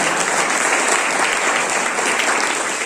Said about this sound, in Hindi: मैडम के लिए जोरदार ताली बजाइए